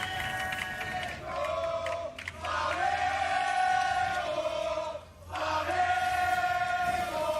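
A large esports arena crowd at the 2019 League of Legends World Championship play-in chanting and cheering for Flamengo eSports, loud rhythmic waves of massed voices that dip briefly and swell again.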